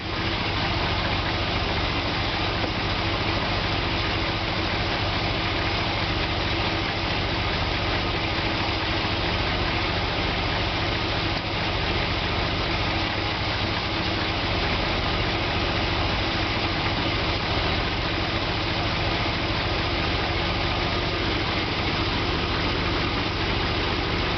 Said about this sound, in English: engine idling in park